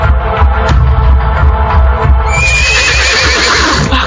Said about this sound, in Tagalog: Narinig ko na naman ang ingay ng mga kabayo.